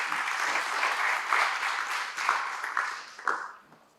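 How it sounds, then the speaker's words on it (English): An audience applauding to welcome a speaker at an architects' professional development event, a dense sustained wash of clapping that swells, holds, then tapers off toward the end. "Please welcome Mr. Dilshan Fernando with a round of applause"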